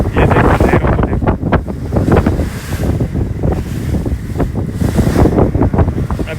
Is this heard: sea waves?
yes